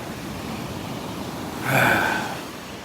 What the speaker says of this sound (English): listening to the waves, soaking up the serotonin.